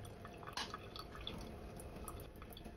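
Water drips from a squeezed drip bottle in a garden, faint scattered plinks and patters over a soft background hiss, irregular in rhythm and fairly quiet.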